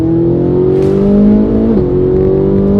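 A 15-year-old Ferrari engine held at about 6,000 RPM, a loud, steady, close howl with strong harmonics and a brief pitch dip partway through.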